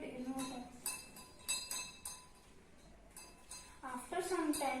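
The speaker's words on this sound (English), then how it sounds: "I took some ice cubes and put it in water." Ice cubes are dropped into a glass of water: a series of light, bright clinks and taps against the glass, close and quiet, with a voice speaking over part of it.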